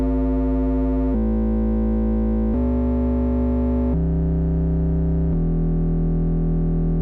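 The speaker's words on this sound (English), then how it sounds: "if we drive that into a distortion" Sustained synthesizer tones driven into heavy distortion in a drum and bass production session, a loud buzzing drone stepping through several held pitches with no voices.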